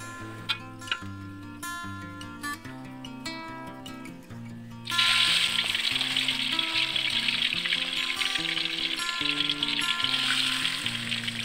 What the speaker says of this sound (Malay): kita goreng lagi ikan keli sehingga habis